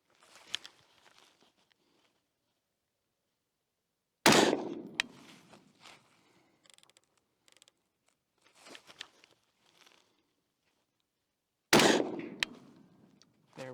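Outdoor rifle gunshots while zeroing an optic, two loud sharp reports several seconds apart, separated by fainter clicks, shuffling and handling noises.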